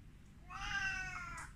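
A domestic cat lets out one loud, drawn-out meow while begging for lickable cat treats, clear and close over a faint background hum.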